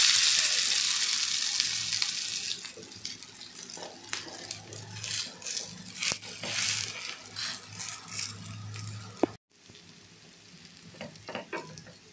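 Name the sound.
cabbage bhanole frying in oil in a pan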